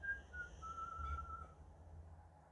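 A person whistles a few short, thin notes and then one longer held note at a live bingo game, faint and distant over a low background hum.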